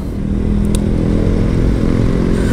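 A gray Honda Click scooter rides past amid steady engine drone and road rumble, fairly loud and continuous with some clatter, no talk.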